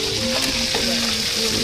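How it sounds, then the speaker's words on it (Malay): Fish sizzles and crackles steadily in hot oil, a loud, close, continuous frying hiss with a faint low hum underneath and no voices. "Ni ikan goreng lah. Malam ni kita goreng"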